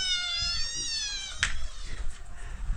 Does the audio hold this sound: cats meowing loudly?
yes